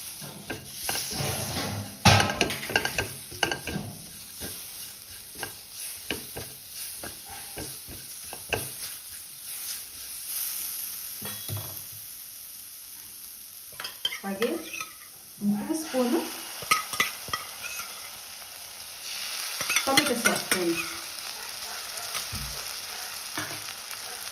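Ginger garlic paste sizzles in a hot pan while a spoon stirs and scrapes it in irregular bursts, with clinks of utensil on metal and a voice speaking intermittently over the frying.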